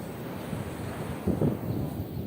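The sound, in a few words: sea waves on the Caribbean coast at Palomino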